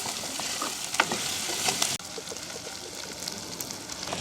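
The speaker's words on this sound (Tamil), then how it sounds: "இப்போ வந்து வெங்காயம் பச்சை மிளகாய் அதோட வந்து இந்த கறிமிளகாயும் வதங்கட்டுக்கும்" Onion, green chili and curry leaves sautéing in a pan, a constant crackling sizzle with scattered sharper pops and light stirring scrapes, close and fairly loud, with a brief dip partway through.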